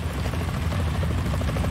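A helicopter's rotor thumps in a steady, low chopping rhythm, loud and continuous throughout, in the PS2 game Metal Gear Solid 2.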